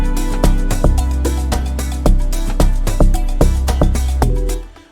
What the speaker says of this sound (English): That's how it sounds on a log drum.